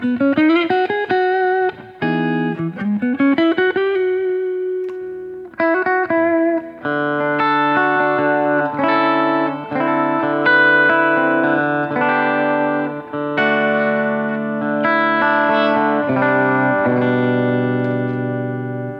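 A clean electric guitar with single-coil pickups plays through a tube amplifier's spring reverb setting, with picked notes and ringing chords that carry a soft reverberant tail, played alone and fairly loud.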